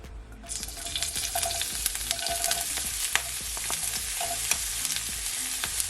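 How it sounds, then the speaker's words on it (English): Onion and garlic sauteing in oil in a pot over low heat, a steady broadband sizzle that swells in after a quiet start and holds for several seconds with scattered crackles and light stirring clinks, no talking. "You're just gonna leave it to saute, guys, for at least 30 seconds, okay?"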